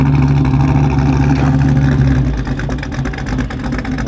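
A Chevrolet Monte Carlo SS idles loud and close with a lumpy, choppy rumble, its uneven low throb pulsing steadily throughout.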